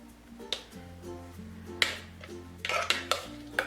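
A spoon clinks and scrapes against a bowl while salt is mixed into crushed tomato chutney, a few light taps and scrapes at a quiet level with a low hum behind.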